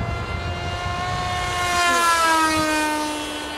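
A Multiplex Easystar RC plane's propeller motor, running on a 4S battery, whines steadily with rising and falling tonal pitches, close and loud throughout with no talk.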